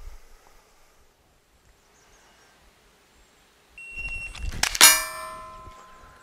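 A handgun drawn from the holster and fired at a steel target: after a few quiet seconds comes a sudden loud burst, then a sharp metallic clang that rings on and slowly fades.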